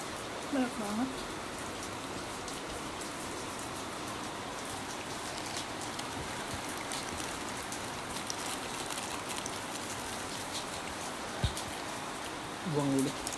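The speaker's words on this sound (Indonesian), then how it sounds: "mungkin kalian juga bisa dengar suara rintikan hujannya" Rain falls heavily as a dense, steady patter of drops close by, continuous throughout, with a voice speaking briefly at the start and again at the end.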